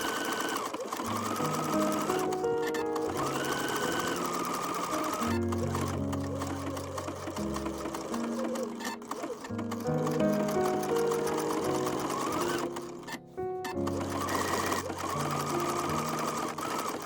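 A sewing machine stitches raw-edge applique with small, short stitches, running loud and close in a rapid mechanical whir with brief pauses and changes in speed.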